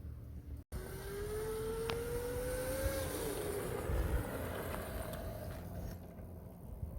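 A Razor MX650 electric scooter fitted with a 1800 W 48 V brushless kit rides past, its motor whine climbing in pitch, then settling into a steady hum under wind noise, fairly loud and sustained.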